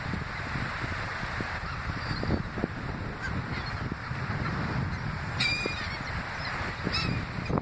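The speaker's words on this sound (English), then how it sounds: "I got crows." A crowd of crows caws and squawks continuously, close and overlapping, forming a harsh, noisy clamor with no pause.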